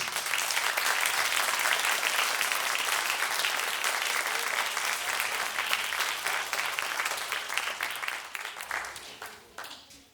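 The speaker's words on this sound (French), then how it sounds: "je vous demande encore une fois, s'il vous plaît, d'applaudir" An audience at an Orchestre d'Harmonie spring jazz concert gives sustained, loud applause that fills the hall, then gradually thins and fades toward the end.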